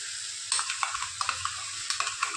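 Chilli, garlic and cumin paste sautéing in a hot pan for a pomfret fish curry, a steady close sizzle punctuated by repeated spoon scrapes and stirring taps.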